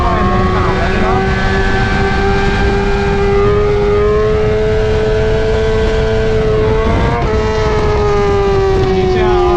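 A BMW S1000RR sportbike engine screams at high, steady revs during a power wheelie, a loud continuous whine with slight pitch sway and a small dip and recovery near the end.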